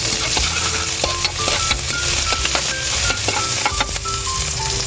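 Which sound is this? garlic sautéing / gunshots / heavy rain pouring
garlic sautéing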